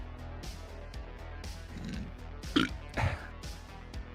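A person burps twice in quick succession, the two belches close and moderately loud, set over a steady low background hum with no talk in between.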